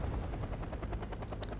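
Super Cobra attack helicopter in the video game Wargame: AirLand Battle, a steady loud rotor drone filling the whole stretch, with rhythmic chopping pulses and faint gunfire-like bursts mixed in, no talk.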